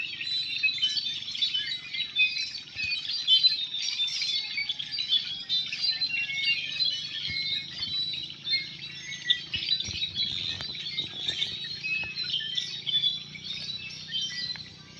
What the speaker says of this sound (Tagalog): Talagang maraming ibon yan.